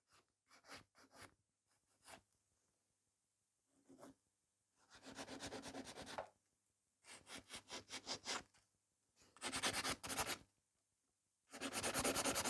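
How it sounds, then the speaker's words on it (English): A file scrapes an acrylic nail in quick bursts of close, dry rasping strokes, short flicks early, then longer runs of rapid back-and-forth filing separated by brief pauses. "So I'm kind of filing at the angle now."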